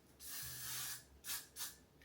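Hairspray from an aerosol can misted onto a fringe to set it: one long close hiss, then two short quick bursts after a brief gap, with no voices.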